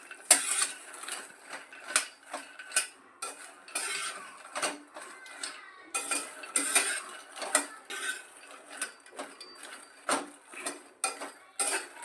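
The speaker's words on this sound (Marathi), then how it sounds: "मखाना पण मी अर्धाच टाकलेला आहे भाजायला तोही भाजून घेऊया" Makhana (fox nuts) dry-roast in a pan, stirred in quick bursts of light rattling, clicking and scraping that come and go, quiet and close with no speech.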